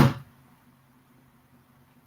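One hard strike on a computer keyboard lands at the start, a sharp loud impact followed by a faint low ringing hum that lingers and fades, with no talking.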